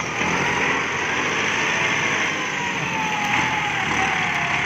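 A Kubota MU5702 tractor engine runs steadily and loudly close by, a continuous broadband drone with a high whine, unbroken for the whole stretch and with no talk.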